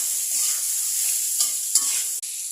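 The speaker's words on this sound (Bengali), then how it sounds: "ফোড়ন দিচ্ছি, আলু কুচি হলুদ মাখা।" Chopped potatoes coated in turmeric fry in a hot spice tempering for a Malabar spinach and potato bhaji. A loud, steady hiss is broken by a few brief stirring scrapes.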